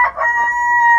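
A chicken on a homestead crows briefly and close, a single loud sustained call held through the whole moment.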